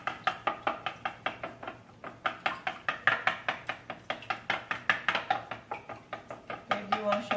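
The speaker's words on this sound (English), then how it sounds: "I like to use the wooden spoon because I can really chop down into the yolk of the egg" A wooden spoon chops down into egg yolks in a bowl of low-carb chocolate chip coconut muffin batter, making a fast, even run of hollow knocks that pauses briefly and then carries on.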